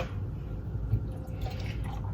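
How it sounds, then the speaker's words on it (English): A small splash of vanilla almond milk poured into iced cold brew coffee, a quiet, close dribbling trickle of liquid with faint drips, steady and unaccompanied by speech. "I'm gonna do a little splash of the vanilla almond milk."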